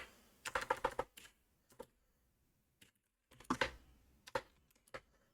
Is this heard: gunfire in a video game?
no